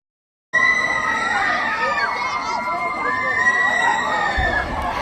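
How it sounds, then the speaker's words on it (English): Concert arena crowd of fans screaming continuously, a loud, dense wall of high-pitched shrieks and shouting that starts abruptly and holds steady throughout. "I am now at concert arena with the screaming sound of fan club."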